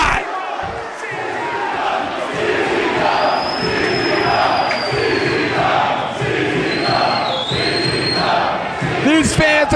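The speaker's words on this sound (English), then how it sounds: "These fans that are cheering for these light tubes" Wrestling crowd at a 2002 CZW hardcore event roars and chants loudly and continuously, a dense wall of cheering voices with whistles rising through it, close and sustained throughout.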